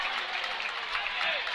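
Crowd at a Lady Tigers vs. Salem basketball game cheers and claps after a foul call, a dense, loud, continuous roar throughout.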